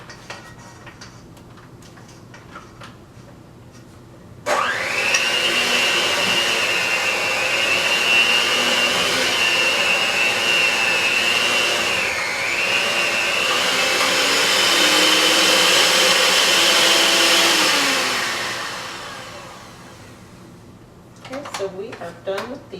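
An electric mixer whirs through cookie dough for about fifteen seconds, switching on abruptly with a steady high whine that dips briefly mid-run before stopping, with faint bowl clatter before and after.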